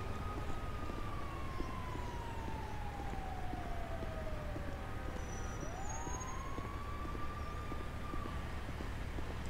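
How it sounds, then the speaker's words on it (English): A distant fire truck siren wails in a GTA roleplay street scene, slow rising and falling sweeps drifting over steady traffic rumble, faint and far off with no voices. "that's a fire truck"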